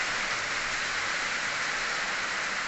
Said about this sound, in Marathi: बघा मित्रांनो पाऊस वाढला आता